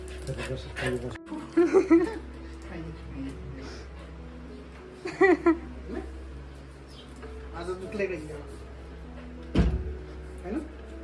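A pet dog barks and whimpers indoors in short bursts spread through the scene, with people talking in between and a door or cupboard knocking once.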